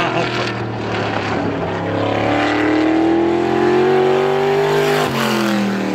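Race car engine at Star Speedway during super time trials, a loud continuous drone that climbs in pitch as the car accelerates down the track, dipping sharply near the end as it backs off, with no talk.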